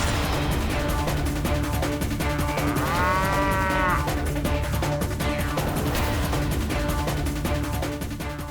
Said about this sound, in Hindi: भैंस?